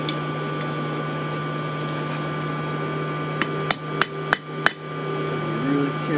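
Hammer blows flattening a railroad spike on an anvil while blacksmithing, four sharp ringing strikes in quick succession against a steady background hum, loud and close.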